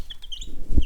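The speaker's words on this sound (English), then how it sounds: "This little cutie patootie here is a blue Cochin, and she is just a really poofy little chicken that will hopefully be a good mama." A fluffy blue Cochin hen gives short, soft clucks close by, a brief low burst of farmyard chicken chatter with no one talking.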